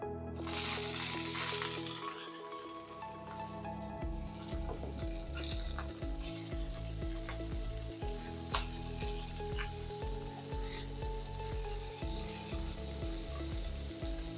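White onion sizzles in a pan at a quiet steady level while being stirred constantly, with rhythmic scraping strokes of the utensil throughout.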